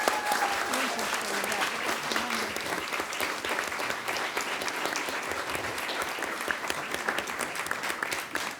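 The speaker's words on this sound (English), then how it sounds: "Let's clap for that one" Audience applause at a school board meeting honoring the Virginia State Agriculture Education Teacher of the Year, a dense, even crowd clapping that continues steadily, with a voice faintly audible beneath it.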